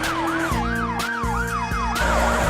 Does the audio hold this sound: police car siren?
yes